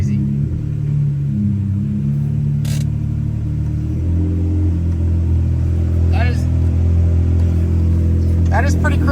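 Ferrari 599 engine rumbling low and steady as the car creeps along, first movement in years, with a brief shift in tone midway and people talking over it.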